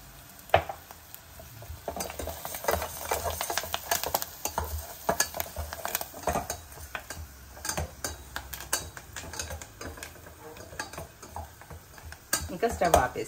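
Turmeric and spices fry in hot oil, giving a close, steady sizzle broken by frequent scraping stirs and light clinks of the utensil against the pan, while a voice talks faintly in the background.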